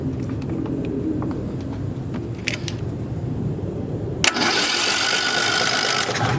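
A junked John Deere mower with no spark, its engine turned over by the starter without catching: a low churning drone, then an abrupt switch to a harsher, louder whirring cranking that runs to the end.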